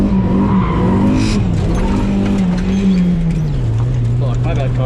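A Mazda Miata drifts on a street with loud, continuous tire squeal that wavers in pitch over engine roar, close and sustained throughout.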